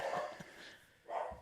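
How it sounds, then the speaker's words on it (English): Indoor dogs bark in a room, with two short bursts of barking separated by a quieter pause, moderately close and heard without speech. "sorry about the dogs."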